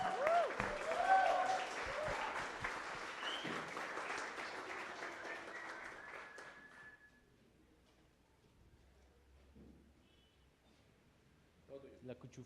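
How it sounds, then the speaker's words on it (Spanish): An audience at a talk on Mexican cities applauds loudly for several seconds, the clapping thinning out and fading into a quiet room with faint murmurs and a brief stir near the end. "Un aplauso, por favor."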